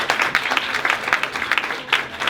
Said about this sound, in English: So, can we get a round of applause for our speakers?